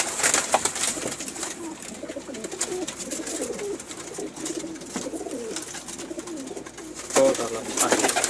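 Pakistani pigeons coo steadily and close by, a soft repeated throaty warble running through the whole stretch with a louder burst near the end.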